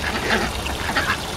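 Ducks quack in a few short bursts beside a small backyard wading pool in spring, calls fairly close over a steady background hiss.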